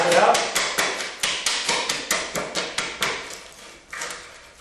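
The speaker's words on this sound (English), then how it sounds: "Now just use a hammer and tap it out." Hammer tapping out waste wood from grooves cut 3/4 inch deep at the end of a workbench leg, a steady run of about twenty sharp, close blows in quick rhythm, alone.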